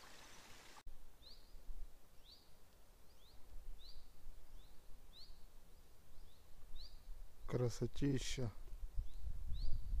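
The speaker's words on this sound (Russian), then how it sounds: "Шум воды, пение птиц." Birds sing in repeated short chirps over the steady rush of a mountain stream at dawn in the Carpathian Gorgany range, with a brief burst of louder close calls and a single spoken word near the end.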